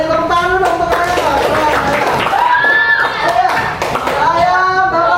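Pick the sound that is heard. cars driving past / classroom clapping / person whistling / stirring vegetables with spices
classroom clapping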